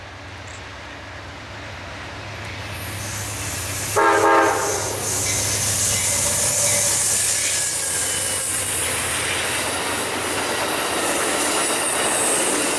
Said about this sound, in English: And there she goes, westbound and down, as Amtrak 29 rides off into the invisible sunset